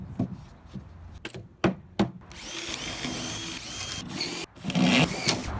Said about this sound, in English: we're going to drill through from the backboard into the bottom part of our frame